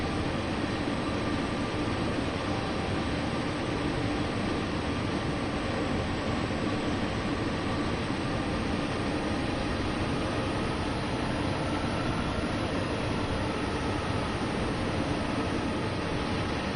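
A steady, continuous rumble of a train running downhill in the video game Train Sim World 2 on Sherman Hill, broad and even throughout with no voices.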